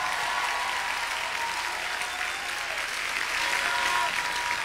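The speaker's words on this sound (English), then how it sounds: "if you're going to clap, really give a big hand clap in Jesus' name" An audience at a church conference evening session breaks into dense, sustained applause, a steady wash of many clapping hands filling the room without pause.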